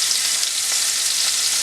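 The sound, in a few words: onions frying in bacon grease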